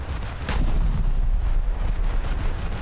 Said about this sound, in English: that was the biggest explosion going